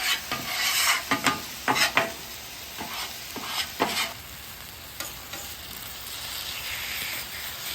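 Scraping and stirring of sugary, charred residue across a hot griddle while cooking salmon teriyaki, a run of short scrapes and sizzles early on that thins out to a steady faint hiss.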